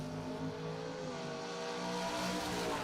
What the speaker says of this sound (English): And the Dodge getting ready to rocket down the Phil's trailer sales lane